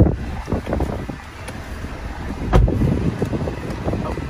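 Steady broadband whoosh of the climate control fan blowing inside a 2020 Honda Accord Touring 2.0T cabin, constant and close, with faint low rumble and a brief thump partway through.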